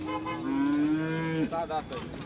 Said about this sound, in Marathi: दुसऱ्या वेताची गाय आहे